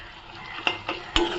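Onions with salt frying in a pan, a soft steady sizzle broken by a few sharp stirring clinks and scrapes, close and alone with no voices.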